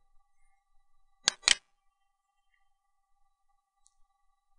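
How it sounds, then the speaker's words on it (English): A computer mouse clicks twice in quick succession on a link in a help page, crisp and close in an otherwise quiet room. "so you click on that."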